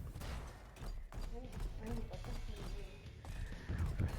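Rapid gunfire from the mobile mech brawler Super Mecha Champions crackles in busy bursts over a dense layer of game effects and background noise.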